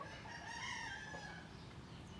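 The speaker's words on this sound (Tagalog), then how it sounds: "Rinig na rinig yung tilaok ng manok." A rooster crows once in a long drawn-out call in a rural backyard, with a steady outdoor background hum underneath.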